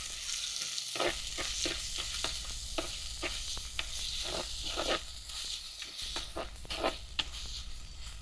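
Chopped onion and green chilies sauté in a pan for Tamil-style rava vada, a steady close sizzle broken by repeated scraping stirs at an irregular rhythm, with no talking.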